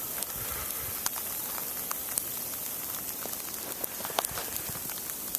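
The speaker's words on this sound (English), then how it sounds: "still sleeting here. A few flakes mixed in, but mostly sleet" Sleet falls outdoors during a Carolina snowstorm, a steady fine hiss of ice pellets with scattered sharp ticks as they strike surfaces, fairly faint and continuous with no voices.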